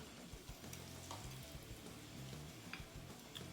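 Panko-crumbed Scotch eggs seasoned with salt and pepper bubble in a deep fryer, giving a steady, faint, even sizzle with occasional small pops and no voices.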